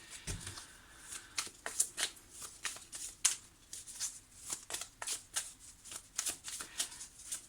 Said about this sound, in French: Je vais rajouter une carte ici.